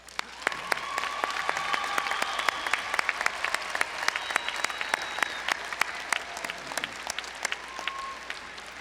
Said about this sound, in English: Graduates, let's give those who supported you a round of applause.